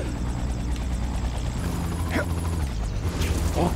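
A helicopter in The Amazing Spider-Man 2 video game, a steady low rotor thrum and mechanical drone running throughout, with brief whooshing game effects on top.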